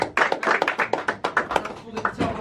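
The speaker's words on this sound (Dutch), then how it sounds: "een applaus voor DP" Applause for the performer DP at a talent show final, a brisk run of separate hand claps with a steady uneven rhythm, close and fairly loud.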